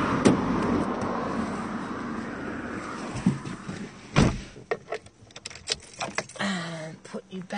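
Someone climbs into a small Hyundai car on a Bermuda drive: rustling, then a solid door thump, followed by scattered clicks and shuffles inside the cabin while a person talks.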